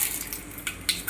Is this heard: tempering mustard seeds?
yes